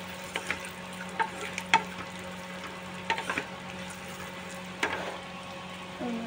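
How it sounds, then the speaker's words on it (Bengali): Turmeric stirred into fried cashews and raisins in a pan, with scattered soft spatula scrapes and clicks over a low, quiet sizzle and a steady faint hum. "হলুদটা দিয়ে ভালো করে নাড়াচাড়া করে"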